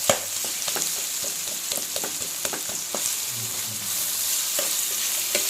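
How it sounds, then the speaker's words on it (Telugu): Minced meat keema fries in oil with ginger garlic paste, giving a steady sizzle with scattered clicks and scrapes from stirring in the pan. "అల్లం వెల్లిపాయ పేస్ట్ కొంచెం నూనె వేగిన తర్వాత ఈ కీమా వేసేసుకోండి"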